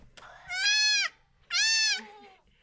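A baby goat on a farm gives two loud, wavering bleats close by, each about half a second long, with a short pause between them.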